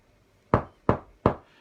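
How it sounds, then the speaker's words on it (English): Three sharp, evenly spaced knocks on a bedroom door ring out close and clear against near silence. "you give a knock on the door just so whoever's in the bedroom will know somebody's coming in"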